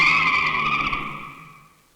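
A car's tires squeal loudly as it skids to a halt, the screech holding steady and then fading out over about two seconds.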